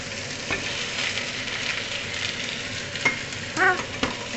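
Chicken sizzles steadily in a hot pan while being stirred, with a constant frying hiss and a few sharper scrapes and clatters toward the end.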